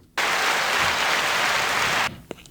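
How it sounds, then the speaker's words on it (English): Dense applause and clapping from an audience, loud and steady for about two seconds before cutting off abruptly. "Claps for Drew."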